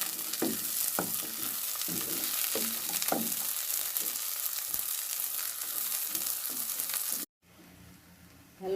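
Garlic and dried chillies fry in a pan during a Bangladeshi beef bhuna, a steady loud sizzle with scattered stirring scrapes and pops, cutting abruptly to a quieter, duller hiss near the end.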